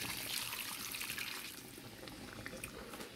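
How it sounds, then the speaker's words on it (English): Liquid is poured steadily into a pot of Hungarian goulash made from leftovers, a continuous close splashing stream that eases slightly partway through, with no talking. "So we're going to pour that in as well."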